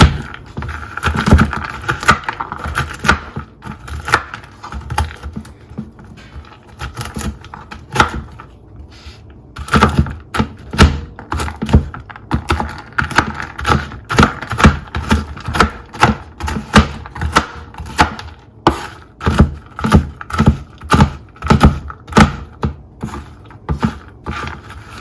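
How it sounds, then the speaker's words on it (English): A knife roughly chopping pecans on a cutting board for a pecan pie, a steady run of sharp, close knocks that starts sparse and speeds into a fast, regular rhythm, with no talking. "Now we're gonna roughly chop our pecans. Just gonna rough chop them."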